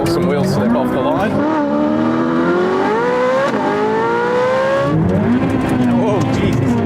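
Ferrari 488 Pista and 458 Speciale launching side by side with wheel slip, engines roaring loud and close as they climb through the revs, with a gear change and renewed acceleration, a voice speaking over the noise.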